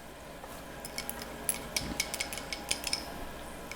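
Shallots cooking in brandy in a pan and being stirred, with soft clinks and scrapes of a utensil against the pan in a quiet, irregular run of light taps.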